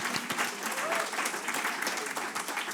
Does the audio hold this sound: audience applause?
yes